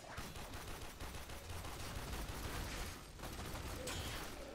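Dense, continuous gunfire rattles through a chaotic Warframe battle, shots blurring into a steady roar with a brief dip midway before the din resumes.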